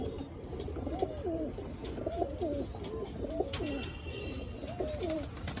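Home-bred pigeon chicks and adult pigeons coo repeatedly in a loft, rolling throaty phrases recurring every second or so at close range, over a soft background hum and scattered chirps, with no talking.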